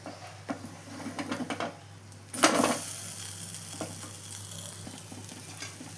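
Moong dal pesarattu, a Telugu green gram dosa, sizzling in oil on a hot pan over low flame, with a steady close frying hiss, a few soft scraping taps, and a brighter burst of sizzle midway that stays strong.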